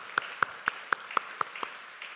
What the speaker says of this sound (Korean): 우리 환영의 박수 하도록 하겠습니다.